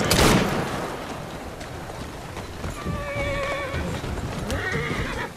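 A horse neighs in the Assassin's Creed Syndicate video game, a loud, wavering whinny heard up close with hoofbeats and ambient game noise around it and no talking.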